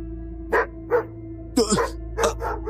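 Several loud dog barks in quick succession, sharp and close, over a steady low hum.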